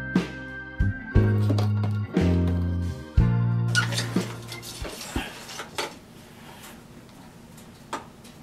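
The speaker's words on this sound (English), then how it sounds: "The metal's cracking or clanking because of the heat" Metal heater parts clank and crack as they heat: a run of loud, ringing metallic knocks, then scattered fainter ticks and pops spread over several seconds.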